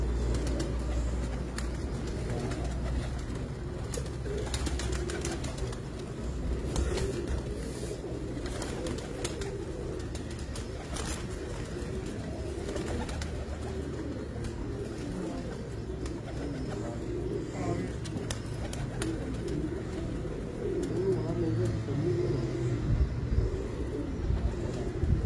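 Breeder pigeons in a loft coo at a moderate distance, a long, even murmur of overlapping calls over a low background rumble, with no clear speech.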